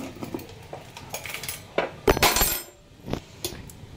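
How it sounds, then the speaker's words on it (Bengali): Kitchen utensils and dishes clattering during home cooking, a few close metallic clinks and knocks in quick irregular bursts, one louder cluster midway, with no talk. "রান্নাঘরে রান্না করতে গেলে একটু তো শব্দ হবে।"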